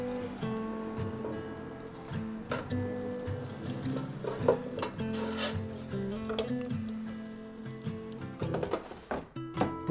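Plastic tongs flip a spatchcock chicken in an air fryer basket, close rubbing and scraping with light clicks and knocks, a few sharper clatters near the end.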